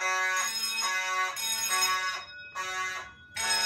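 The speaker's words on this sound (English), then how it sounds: "You can see both zones are in alarm because I pulled zone 1 and zone 2 is the panel." A Simplex 4207 fire alarm panel, set off from a pulled manual station, sounds a loud, close, ringing tone in repeated on-off bursts with short gaps between them.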